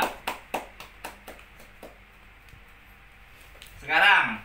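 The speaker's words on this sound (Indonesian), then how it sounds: "Iya, tepuk tangan dulu buat kelompok Nabila" A class of children claps for a group in a classroom: a short burst of close, sharp claps that thins out and fades, followed by a brief voice.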